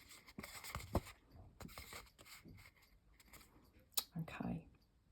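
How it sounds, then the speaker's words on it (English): Short snipping and scraping noises of scissors working through card, a few irregular cuts close by, with a voice talking quietly alongside. "Okay, we're going to cut up there just to the middle"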